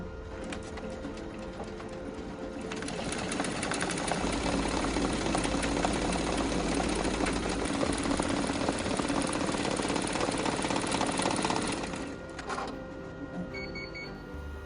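A Tajima embroidery machine stitches a 3D puff foam design onto a baseball hat, a dense steady mechanical clatter running continuously for about ten seconds before stopping, with no talk.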